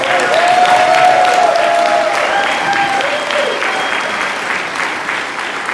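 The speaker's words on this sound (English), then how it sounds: "So let's give them a round of applause." A crowd at a June 2018 graduation ceremony claps for the graduates' teachers, steady and sustained applause filling the hall, with faint voices and a few whoops over the clapping.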